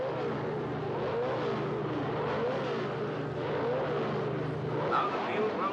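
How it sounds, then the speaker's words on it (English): Grand Prix racing car engines start up on the grid as the field prepares, a loud continuous mix of idling and revving engine drone with a steady low hum, while a commentator talks over it throughout. "The engines are starting up now, and the mechanics and photographers are moving off the track."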